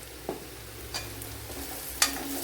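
Ground spice powders, coriander and turmeric, stirred and fried in a pan for a chicken dish, with a few soft scraping stirs and a light sizzle close by.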